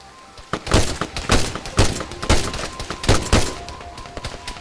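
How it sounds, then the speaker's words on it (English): Distant gunfire in the video game ArmA 3, set in Ruha, Finland: about ten sharp, irregular cracks and thuds go off in a scattered volley, some doubled, against quiet in between. "there's some other shooting"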